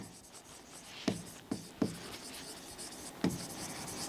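Chalk or marker scratching on a board during a physics lesson, with a few sharp taps around one, two and three seconds between soft rubbing strokes, close and fairly quiet with no voice.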